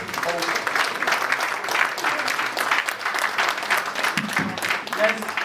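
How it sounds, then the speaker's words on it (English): Audience applause at a medical conference in Lagos, a steady, dense clapping from a large crowd sustained throughout, fairly close and even in loudness. "Let's make that applause louder"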